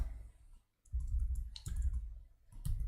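Someone types a Docker command on a computer keyboard, a few quick bursts of close key clatter separated by short pauses.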